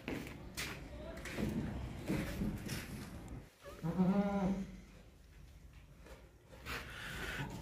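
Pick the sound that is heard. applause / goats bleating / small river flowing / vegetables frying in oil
goats bleating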